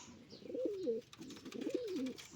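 Pigeons coo close by before release at a street corner, two soft rolling coo phrases with a short pause between them, over quiet background noise.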